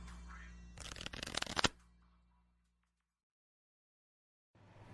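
A deck of playing cards is shuffled before a game of bridge, giving one brisk riffling burst of about a second that ends in a sharp snap, followed by near silence.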